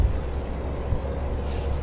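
A truck on a Brazilian highway gives a short, sharp hiss of its air brakes near the end, heard from a following vehicle over a steady loud road and engine rumble.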